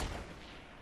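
Gunshots in Fortnite, a short low booming report that starts strongest and then trails off into a rumbling decay, heard alone without speech.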